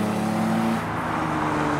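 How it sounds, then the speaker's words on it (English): Two BMW 3 Series cars, an E46 and an E30, roll into a nighttime Japanese car meet, their engines a steady close rumble throughout with a slight easing partway. "And now a pair of 3 Series arrive, a 46 and a 30."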